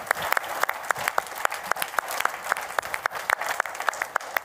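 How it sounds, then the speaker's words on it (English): An audience claps for a speaker at a talk on re-defining prosperity, with dense, steady hand claps and a few sharper individual claps standing out, sustained at even loudness throughout. "Kate, give her a warm applause."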